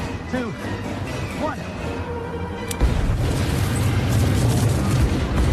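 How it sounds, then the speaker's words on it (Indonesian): In a shark horror film, a sudden deep explosion boom bursts out and gives way to a sustained roaring rumble, following a stretch of eerie, wavering sounds. "Pastilah itu meledak."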